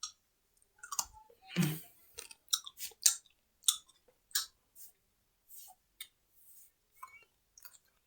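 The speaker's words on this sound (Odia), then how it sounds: "ଅମୃତଭଣ୍ଡା ପାଚି ଯାଇଥିଲା କହିଥିଲି, ଖାଉଛି ଦେଖ" Someone chews ripe papaya up close in a quiet room, a string of separate wet, squishy bites and soft clicks with gaps between them and no talk.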